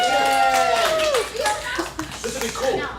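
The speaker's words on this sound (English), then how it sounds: "clap for George." A small audience at a comedy talk show claps for George with a brief burst of scattered applause, overlapped by a voice talking and some chuckles.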